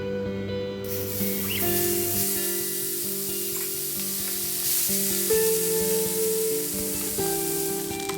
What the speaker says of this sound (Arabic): نحمص الشاورما زين بالطاوة